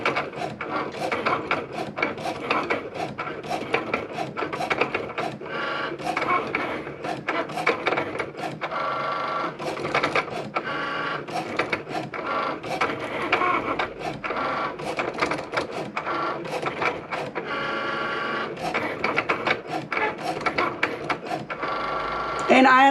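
An HTVRONT vinyl cutting machine slices transfer paper, giving off a continuous busy mechanical rasping and whirring with rapid stuttering rhythms, loud and close, with some speech mixed in.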